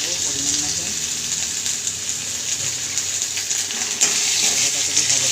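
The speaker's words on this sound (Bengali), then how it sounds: "আলুটা লাল ভাজতে দিয়েছে, হালকা ভাজা এসছে" Potato pieces frying in hot oil in a pan, a loud continuous sizzle with a brief sharper flare of spitting near the end, close up and steady.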